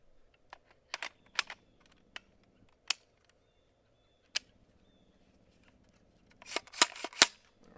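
Subsonic rifle shots from a Foxtrot Mike FM45 firing its last five rounds from an ETS magazine: sharp, quiet-sounding cracks spaced irregularly, then a quicker cluster of several shots near the end, with no talking.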